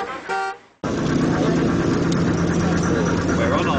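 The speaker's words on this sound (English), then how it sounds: "they will stop at the bus stop and they will sound their horn" A taxi's car horn toots briefly at a Chinese bus stop in Baotou, followed by loud, continuous street traffic and engine noise.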